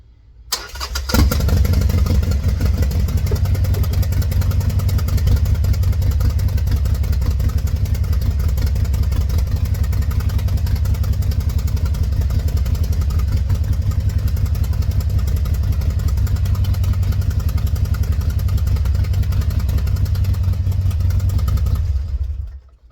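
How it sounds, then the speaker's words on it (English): A Harley-Davidson Sportster 1200 motorcycle engine starts and then idles steadily for about twenty seconds, a loud, close, continuous low rumble with mechanical clatter, no talk over it. "We're going to go ahead and start the bike and let it run for just a minute."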